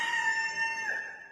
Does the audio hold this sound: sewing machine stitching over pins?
no